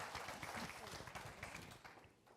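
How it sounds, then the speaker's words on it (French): Audience clapping at an award ceremony, a dense, steady patter of many hands that carries on for a couple of seconds and fades slightly at the end. "On l'applaudit"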